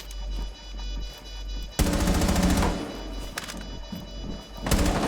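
Video game gunfire: a long burst of rapid automatic shots, loud and close, followed by a brief lull and a further burst, with no talking.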